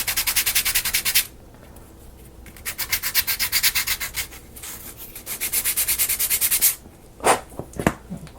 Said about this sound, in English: just sand it slightly where it sits